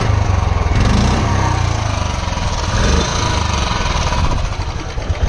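A BS6 Royal Enfield Standard 350 fitted with a long Punjab exhaust idles and revs close by, a loud, steady, deep thumping exhaust note lasting throughout without talk.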